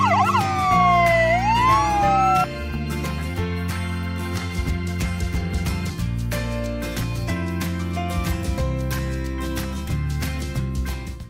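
Toy yellow ambulance siren with a warbling, sweeping wail for the first couple of seconds, then a bouncy electronic toy melody playing steadily to the end.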